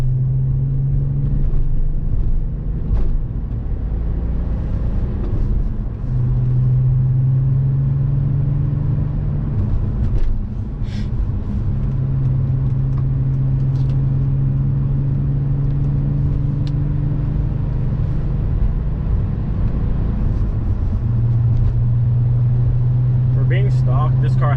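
A stock Volkswagen R32 engine and exhaust while driving: a steady, loud, deep droning rumble throughout, with someone talking over it the whole time.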